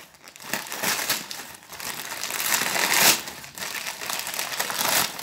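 Small Christmas presents being unwrapped, with continuous close crinkling and crumpling of wrapping paper in uneven bursts and a few louder tearing rustles.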